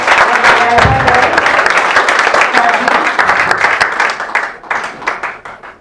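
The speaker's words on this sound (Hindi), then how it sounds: "इसी सर का जोरदार तालियों से सम्मान किया जाए" Applause from an audience at a school science exhibition, a broad dense patter that is loud at first and thins toward the end, with some voices mixed in.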